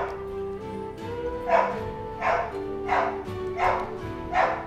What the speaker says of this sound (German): jetzt hört er wahrscheinlich einen Hund kläffen